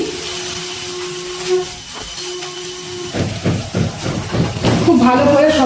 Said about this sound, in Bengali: এবার ভালো করে মশলার সাথে আরেকটু কষিয়ে নিচ্ছি।